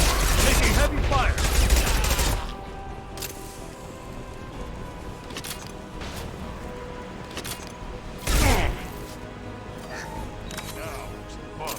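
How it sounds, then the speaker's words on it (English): Heavy automatic gunfire in the video game Mass Effect on Insanity difficulty, a dense rattling burst for the first two seconds, then scattered shots and impacts, with a second loud burst near the end over a steady battle din. "Taking heavy fire."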